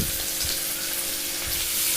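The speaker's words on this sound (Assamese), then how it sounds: "পিঁয়াজখিনি ফ্ৰাই কৰি লওঁ" Onions sizzle and fry steadily in a pan on lowered gas heat during preparation of a fish curry with roselle leaves, a continuous close hiss with no talk.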